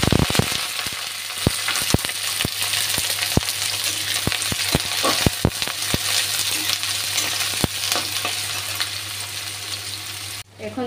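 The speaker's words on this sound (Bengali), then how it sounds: "এখন পেঁয়াজ কাঁচা লঙ্কাটা দিয়ে দিচ্ছি।" Onion and green chilli sizzle and fry in a pan on a steady broadband hiss, with frequent sharp clicks and taps of stirring utensils throughout, cutting off near the end.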